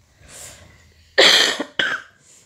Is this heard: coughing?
yes